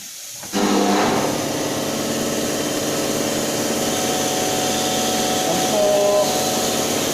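An electropneumatic trainer on an industrial automation bench switches on with a sudden onset, then runs as a steady mechanical hum and whir that holds at a constant level throughout.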